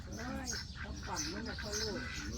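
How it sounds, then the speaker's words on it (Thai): Ducks kept at a rural pond quack several times in quick, nasal calls at moderate distance, mixed with faint background noise. "แต่ก็เป็ดเนาะ สภาพเป็ดค่ะ"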